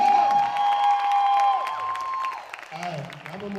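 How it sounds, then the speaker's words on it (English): An audience claps and cheers for a kids' all-star band, the applause steady and loud throughout, with crowd voices and speech mixed over it. "Let's clap it up for these kids"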